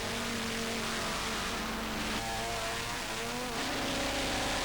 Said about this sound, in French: Voilà la BMW bleue des Tchèques.